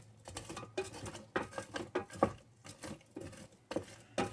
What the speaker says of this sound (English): Put the shrimp in.